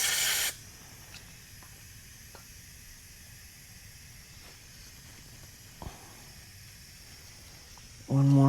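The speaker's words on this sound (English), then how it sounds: "Clean it one more time with a carb clean." Carburetor cleaner sprayed onto a dirt bike carburetor: a loud hissing burst at the start and another at the end, with quiet handling noises and a few small knocks in between.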